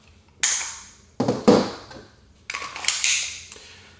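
A 10-round extended magazine from a full-size HK45 slides into an HK USP Compact pistol, giving several sharp, close metallic clacks and snaps spaced over a few seconds.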